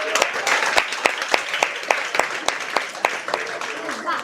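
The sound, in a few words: audience applause for the chef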